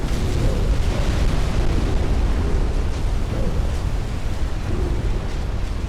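Dense, continuous rumble of torpedo hits exploding against battleships in the naval video game Ultimate Admiral, 1940-era fleets, with booms merging into a steady roaring wash and no clear gaps.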